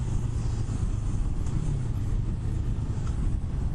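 A Yamaha R3 motorcycle engine runs through a right turn, giving a steady, close, low droning hum that holds even and unbroken throughout, with constant rushing wind noise layered over it.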